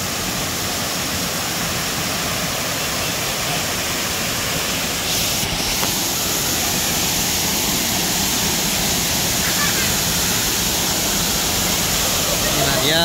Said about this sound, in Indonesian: air terjun Pancuraji